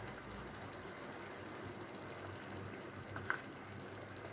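A tamarind, chili and salt mixture poured into simmering tomato pickle gives a steady, soft liquid gush and sizzle, faint and continuous, with a small clink near the end.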